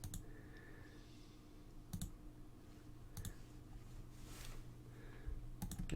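Computer keyboard keys are pressed while binding emulator controls: a handful of sparse, faint, sharp clicks spaced irregularly over quiet background hiss.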